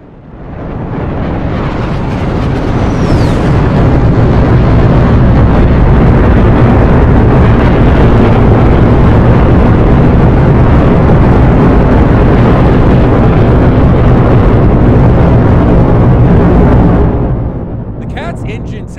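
F-14 Tomcat jet engines in a video game spool up into a loud, rumbling roar for takeoff, holding powerful and steady for a long stretch before fading away at the end.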